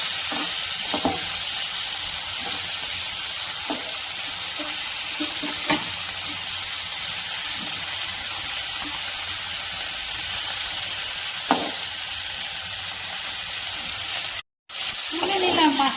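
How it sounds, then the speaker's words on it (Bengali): Giant freshwater prawns fry in mustard oil with a continuous even sizzle as they are turned in the pan, with a few sharp clicks and scrapes from the utensil. "মাছটাকে আর এক পাশ উল্টে দিচ্ছি।"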